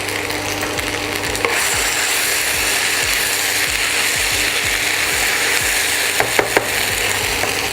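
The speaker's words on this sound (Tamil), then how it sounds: "இப்போ வந்து நம்ம லைட்டாக பெப்பர் அதில் ஸ்ப்ரிங்கிள் பண்ணிக்கலாம்" A pepper mill grinds pepper over red sauce pasta, its ratcheting mechanism clicking in a steady run of crunchy turns, close and fairly loud, with a soft sizzle from the pan behind it.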